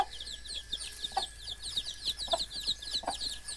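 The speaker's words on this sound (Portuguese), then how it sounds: "Olha pessoal, essa foi uma galinha que chocou. Olha só os fiotinhos dela" A mother hen clucks softly and repeatedly at a farm smallholding while her newly hatched black chicks peep in a steady high chatter, close and fairly quiet, with no talking.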